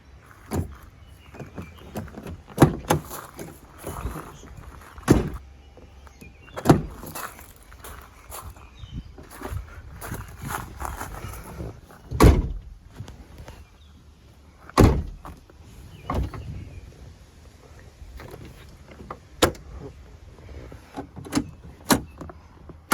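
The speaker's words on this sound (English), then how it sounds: "check how hard it is to open this door. You need to pull very hard." Driver door of a 2014 Nissan Navara LE being pulled open hard, a series of sharp, loud clunks and latch thumps at irregular intervals, close by, with faint shuffling in between and no talk.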